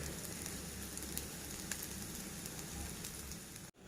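Onions frying in a pan give off a steady, quiet sizzle with faint crackles and pops, continuous and close before stopping abruptly at the very end.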